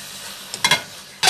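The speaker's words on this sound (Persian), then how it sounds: "کاملا فیله ها رو با پیازا تفت میدیم تا رنگ فیله ها تغییر کنه" Beef fillets sautéing with onions in a pot give a soft sizzle, with a few quick stirring scrapes and clatters breaking through near the end.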